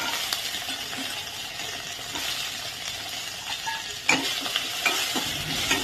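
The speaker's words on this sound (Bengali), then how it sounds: "গরম কড়াইতে প্রথমে অল্প আঁচে অল্প ঘি দিয়ে দেব কারি পাতা, তারপর দেব হচ্ছে পিনাট, দিয়ে অল্প হালকা করে ভেজে নেব।" Peanuts and curry leaves fry in ghee in a hot pan over low heat, a soft steady sizzle with stirring scrapes and a few sharp clinks of a utensil against the pan.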